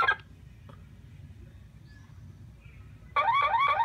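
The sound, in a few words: Dodge Ram car alarm sounding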